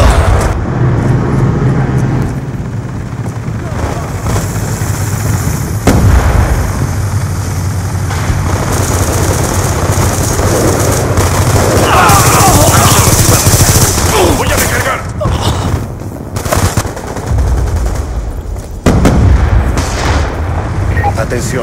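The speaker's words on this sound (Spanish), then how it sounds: "Disparo efectuado." Black Ops 2 team deathmatch gameplay fills the whole stretch with continuous gunfire, bursts of automatic fire and heavy booming explosions, loud and close, while voices talk over the action.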